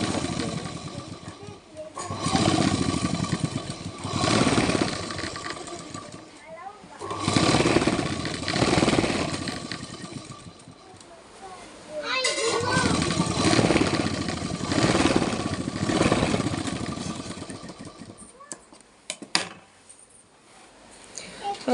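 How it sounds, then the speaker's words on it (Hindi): A sewing machine stitching palazzo pants runs in long steady whirring stretches with brief pauses between them, while a voice talks over it. "अब हम इसको यहाँ से सिलाई लगाना स्टार्ट करेंगे"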